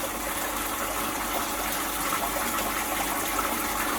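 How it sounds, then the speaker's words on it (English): Water gushes steadily from a garden top-up pipe into a koi pond, a continuous close splashing and rushing flow that holds at an even level throughout, with no voices. "Now that's my water top up system, which I've just turned on and put the pipe in there"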